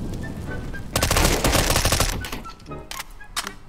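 Loud, close machine gun fire in a shooter video game rattles in a dense burst of over a second, followed by a few scattered single shots.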